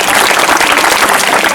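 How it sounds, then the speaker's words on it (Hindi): Students and guests at a school prize ceremony give loud, close applause, a dense continuous patter of many hands clapping together without pause. "जोरदार तालियां।"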